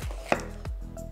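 A knife slices peppers thin on a cutting board for pizza toppings, giving two or three close, crisp chops in quick succession with a small knock of the blade striking wood.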